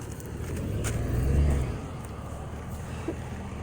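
A truck rolls past along a residential street, a low engine rumble swelling to a peak and then fading as it moves off, fairly close.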